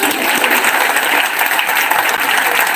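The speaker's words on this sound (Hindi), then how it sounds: "खुशी तालियां बजा डालो" A church congregation at a Christmas Day service claps together, a dense, loud, steady burst of applause from many hands filling the hall without a break.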